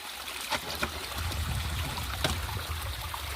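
Water is let out and runs in a low, steady trickle with a soft gurgle, joined by a few faint knocks, quiet and continuous with no talking.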